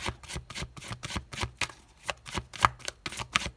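Oracle cards being shuffled by hand, steady rhythmic riffling and slapping at about three strokes per second, close and clear with no voices over it.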